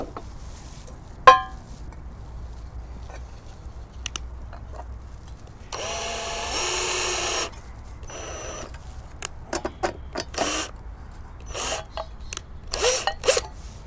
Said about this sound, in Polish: Puszkę przykręcam do kija.